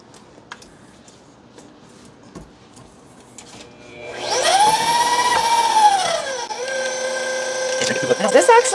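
Electric mixer whirring steadily through pineapple upside-down cake batter, rising loud after a few quiet seconds and running with a slight pitch swell, while people talk nearby.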